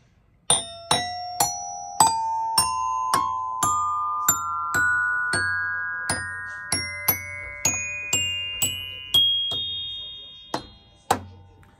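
A vintage xylophone with some keys out of tune is struck one note at a time in a slow, rising scale, each bright ringing tone decaying before the next, close and clear with no talking.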